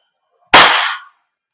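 A single sharp gas pop from a WE Glock 17 Gen 5 airsoft gas blowback pistol, close and loud, with a short hissing decay and no other sound around it.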